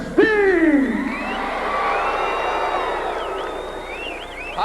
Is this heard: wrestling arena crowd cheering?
yes